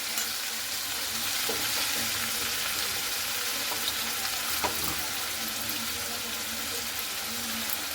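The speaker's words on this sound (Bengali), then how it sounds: "এরপরে টক দইটা দিয়ে হালকা করে এইভাবে নাড়াচাড়া করে নিচ্ছি" Chicken being stirred with beaten sour yogurt in a frying pan, giving a steady low sizzle with soft scraping movements and a few faint clinks throughout, no talking.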